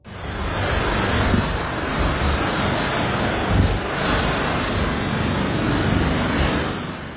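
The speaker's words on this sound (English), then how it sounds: "Terrible tornado storm comes through." Violent tornado storm wind roars in a loud, steady broadband rush with no break, swelling slightly in gusts and buffeting the microphone throughout.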